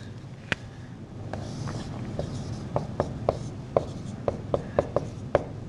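An eraser or chalk working across a board in a classroom math lesson, with a series of sharp taps and scrapes growing more regular toward the end, close and fairly quiet.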